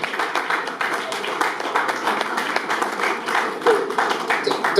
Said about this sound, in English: If your hands are not too busy, please clap for my president.